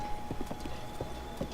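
Horse hooves clip-clopping in Zelda: Breath of the Wild, a few irregular hoof clops at a walking pace over a steady game background, fairly near and moderate in loudness.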